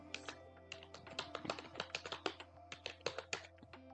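Rapid, close key clicks come from a computer keyboard as a text prompt is typed, forming a quiet, uneven run of taps with no voice over them.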